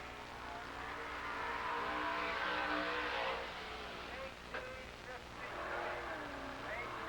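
Late model stock cars lapping a speedway track in a 1993 race, a broad engine roar passing at middle distance with a rising and falling sweep.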